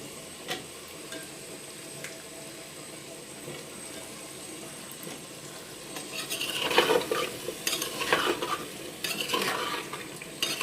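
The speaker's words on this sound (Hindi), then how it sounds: "इसको हमने तकरीबन 3 से 4 मिनट के लिए फिर भूनना है" Potatoes fry with spinach in a pan for an aloo palak dish, a steady low sizzle with bursts of scraping and clinking from a spoon stirring against the pan in the second half.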